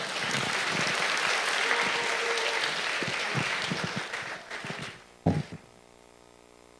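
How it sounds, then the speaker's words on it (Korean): Church congregation at a Korean Sunday evening service applauding a youth department leader as he comes forward, a full sustained clapping that fades out around five seconds, followed by a thump and a quiet room. "나오실 때 큰 박수 부탁드립니다."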